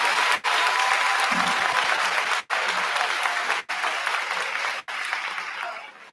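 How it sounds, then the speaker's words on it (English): A full round of applause fills the space at a 2022 middle school graduation ceremony, the crowd clapping steadily and loudly with a few brief dips in between, ending with a trailing fade. "so let's give them a round of applause."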